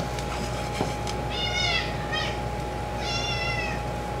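A hungry cat meows three times in short, drawn-out cries spaced about a second apart, close by, over a low steady background hum with no talking.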